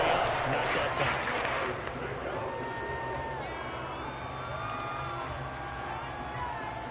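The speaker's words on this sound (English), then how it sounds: "The crowd getting into it as we come up on a big 3rd down." Stadium crowd in the Madden 22 football game roaring ahead of a big third down, a dense, steady wash of cheering that starts loudest and holds under faint game sounds.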